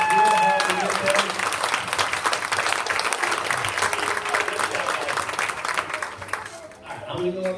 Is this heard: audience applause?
yes